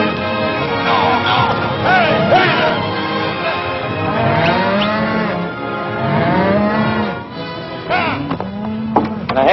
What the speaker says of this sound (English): There's your cattle.